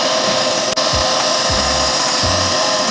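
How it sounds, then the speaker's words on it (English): A vacuum cleaner works over car carpet mats during an interior detail, a loud steady motor whine throughout with a few brief pitch dips and low rumbling scrapes as the nozzle drags across the mat. "we'll vacuum it really nice and spray a little bit interior"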